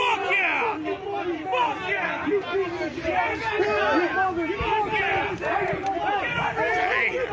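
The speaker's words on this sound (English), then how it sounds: "it sounds like the angry crowd in a South Park episode" An agitated crowd of many voices shouts and murmurs at once, with a dense, continuous babble at moderate distance that keeps up without pause throughout.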